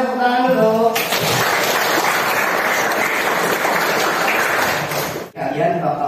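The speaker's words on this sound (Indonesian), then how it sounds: "Boleh tepuk tangan dulu." A classroom of students bursts into sustained applause, a dense, steady wash of clapping lasting several seconds, bracketed by a teacher speaking before and briefly after.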